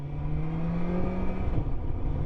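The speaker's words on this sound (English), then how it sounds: "when you wind the throttle back" A 2023 BMW S1000XR with M Package, its 165 bhp four-cylinder engine accelerating hard, a loud rising whine over a rough, buzzing engine roar, held close and steady throughout.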